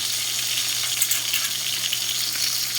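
A salmon head fries in a pan of hot oil, a steady close sizzle that crackles evenly without pause and with no voices.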